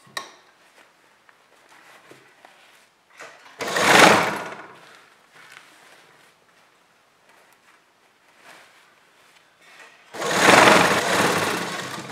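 A sewing machine stitches folded fabric onto canvas for an Anarkali kurti collar in two loud bursts of whirring, separated by quieter rustling and handling noises.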